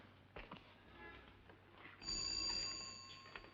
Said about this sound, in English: Brandon and Philip receive a phone call